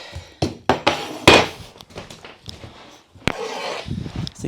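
Sharp hammer blows pounding on tiny house flooring, a few loud irregular strikes with knocking and thudding between them, close and without talk.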